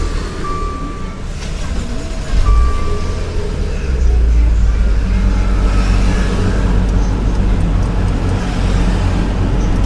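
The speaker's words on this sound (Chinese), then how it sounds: "我们现在已经完成了，现在来发个动" A Maserati Levante engine, just back from timing repair, fires up about two seconds in and settles into a steady, smooth low idle. It sounds loud and close in a workshop, with no talking.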